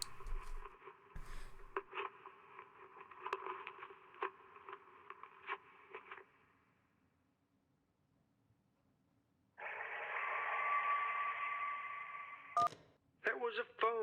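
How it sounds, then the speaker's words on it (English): A phone ringing underwater in the video game Kentucky Route Zero: a muffled, steady electronic ring lasting a few seconds, heard after a stretch of filtered, radio-like voice and clicks. "That was a phone ringing underwater."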